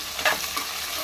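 Spices, onions and green chillies fry in a pan for goat head curry, a short burst of close, steady sizzling with one quick stir-scrape.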